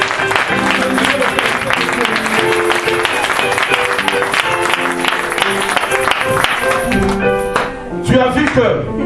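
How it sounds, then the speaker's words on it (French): A church congregation applauding during a service, a dense patter of clapping blended with loud music and voices throughout, thinning briefly near the end. "Nous applaudissons encore la parole de Dieu."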